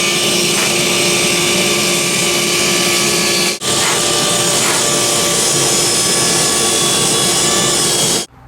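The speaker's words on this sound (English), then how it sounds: "This is the blade I'm going to use to cut the plastic, and it has 50 teeth." A saw with a sharp 50-tooth carbide blade cuts through a plastic block, giving a loud, steady, close whine and grinding rasp that breaks off briefly partway through before resuming until the end.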